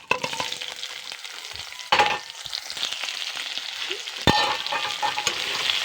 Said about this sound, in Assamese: এতিয়া এইখিনি তেলতে পিঁয়াজ জ্বলাটো দিম।